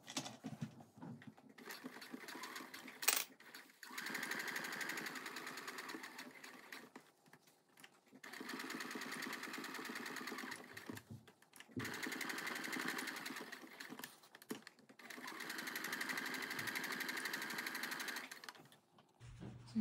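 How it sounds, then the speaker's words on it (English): A sewing machine top-stitching a pocket in place on a denim jacket, a fast steady needle chatter running in several bursts separated by short pauses, close and clear. "You want to make sure that you'll be sewing the pocket in place. So you're just going to top stitch that down."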